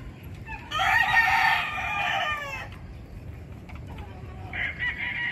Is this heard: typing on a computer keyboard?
no